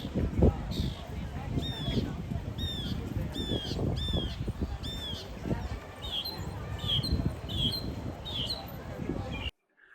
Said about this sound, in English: there was this little bird. It was making so much noise on this tree.